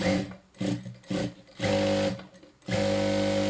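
A sewing machine stitching small pieces of fabric, running in three close, loud bursts of rapid mechanical whirring separated by brief pauses.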